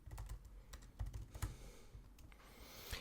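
Someone types an image description on a computer keyboard. Quick, quiet key clicks come in uneven bursts with short pauses, close by and without any voices.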